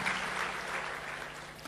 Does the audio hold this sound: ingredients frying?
no